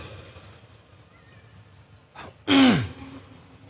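A faint rustle, then a single sharp, harsh cough or throat-clearing burst from a speaker during a public speech, close and loud, against a quiet background.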